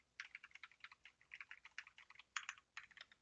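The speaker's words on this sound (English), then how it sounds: "Let's get that keyboard test." Rapid typing on a computer keyboard, picked up through a HyperX Cloud 2 gaming headset microphone, gives a quick, uneven run of close, crisp key clicks with short pauses and no talking.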